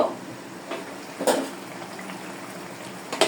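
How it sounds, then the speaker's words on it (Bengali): Water boils in a pot with soft, close bubbling and a few light metallic clinks from the pot. "জলটা ফুটে গিয়েছে"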